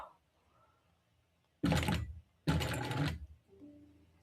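Two loud bursts of a sewing machine running a short stitch, each lasting under a second with a brief pause between, as it sews a bag and backstitches once; quiet room noise before and after.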